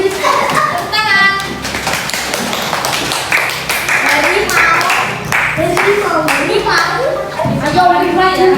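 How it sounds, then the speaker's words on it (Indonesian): Children applaud a tiger-named group in a classroom, with rapid hand claps mixed with young voices and chatter throughout, moderately loud and close. "Berikan tepuk tangan kepada kelompok harimau"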